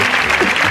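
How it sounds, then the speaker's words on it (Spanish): Loud, dense applause from a television game show studio audience, a steady wash of many hands clapping at once with no break. "Estoy emocionado de verdad por estos aplausos"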